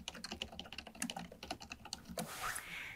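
Rapid typing on a computer keyboard as a title is entered into a student management web system, with dense clicking keystrokes running steadily, close and clear, ending in a brief softer rustle.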